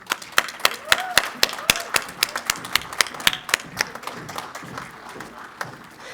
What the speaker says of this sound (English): Let us all give them a round of applause.